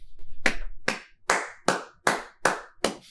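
Seven sharp hand claps in a steady, slightly slow rhythm, close and clear with brief silence between each.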